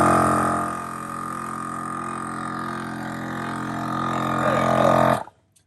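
A Gobege single-head portable air compressor inflating a car tire hums steadily with a droning motor whine, rising slightly in strain near the end before it is switched off and cuts out abruptly.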